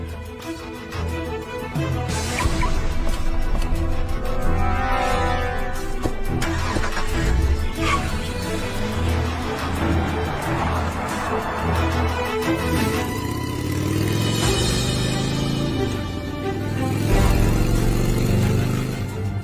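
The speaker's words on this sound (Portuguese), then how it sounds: "Vamos atrás dele de carro, Senhor." A car engine turns over and runs, rising and revving as the vehicle pulls away in pursuit, loud and close, mixed with dramatic music and ambient noise.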